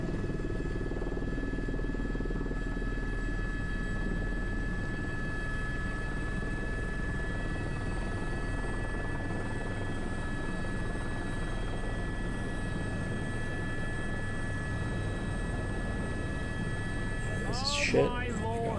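A helicopter hovers with a sling load, giving a steady droning rotor and engine hum at constant loudness, with a brief chirp of a voice near the end.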